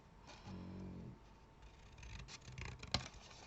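Scissors snip through card stock for a handmade happy mail card, a short series of close, quiet cuts and rustles ending in a sharp snip, with no talking.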